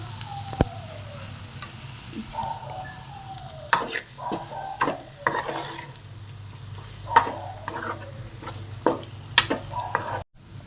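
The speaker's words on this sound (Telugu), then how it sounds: "బాయిల్ చేసిన ఎగ్స్ ఇవి వేసి ఒకసారి కలుపుకోవాలండి మంచిగా" Boiled eggs are turned through a garlic and chili masala in a pan, with repeated spoon scrapes and knocks over a soft sizzle, ending in a sharp cut.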